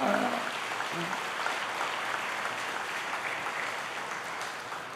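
Applause from a church congregation during a Sunday service, a steady broadband patter of many hands that fills the room at moderate loudness, with a voice briefly heard at the start.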